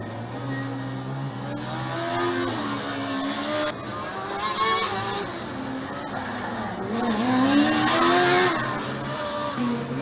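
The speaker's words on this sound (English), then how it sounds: "We're a bit quiet while we enjoy the very pleasant engine sound of the black car from Regensburg." A black Formula Student combustion race car from Regensburg passes on the track during an endurance session, its high-revving engine rising and falling through gear changes as it approaches, loud and clear, then recedes, with no talk over it.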